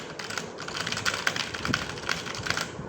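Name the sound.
typing on Redragon RGB backlit clicky gaming keyboard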